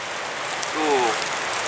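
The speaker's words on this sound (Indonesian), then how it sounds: "Cuma hujan ini." Steady hiss of rain falling on a surface, with a brief faint tonal sound partway through.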